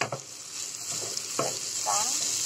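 Onion frying in a pan for a creamy white sauce pasta, a steady close sizzle with a few stirring scrapes and soft clinks, no voices.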